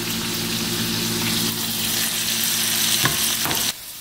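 Sausages fry steadily in a pan with a loud, continuous hiss and sizzle, with occasional stirring scrapes, before the sound drops away near the end.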